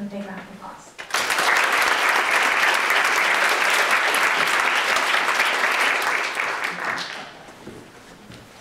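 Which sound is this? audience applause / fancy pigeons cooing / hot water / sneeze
audience applause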